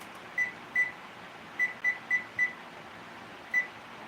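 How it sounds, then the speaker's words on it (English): Kitchen timer beeping in short high electronic bursts, about seven irregularly spaced beeps over low steady background hum, moderately close, while pumpkin oatmeal cookies bake. "So I'll set my timer for 7 minutes."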